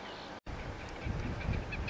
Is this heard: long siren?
no